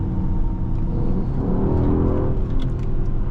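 Mercedes-AMG GLE 63 S pushes forward under throttle, a sustained engine roar and tire whir that swells slightly midway, heard from inside the cabin with no talking.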